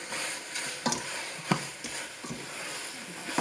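Pork bouillon is stirred into a pot of sinigang pork soup, giving soft, quiet swishing with a few light scrapes and bumps of the spoon at irregular intervals.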